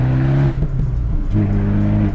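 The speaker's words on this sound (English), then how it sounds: "It's not annoying, it's the right sound for a sports car." An Abarth 124 Spider sports car engine and exhaust run loud and close, a deep steady drone that dips briefly in the middle before settling back to a strong tone.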